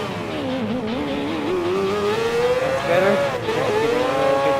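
Mazda 787B rotary-engine race car in Gran Turismo Sport, its engine droning steadily and rising in pitch as it accelerates, loud and continuous, with a voice briefly speaking over it.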